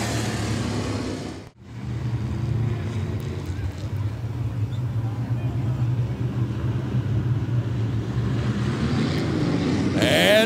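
Sport modified race cars racing at Raceway Park, a steady loud engine roar throughout with a brief dropout near the start, broad and continuous like cars passing close by.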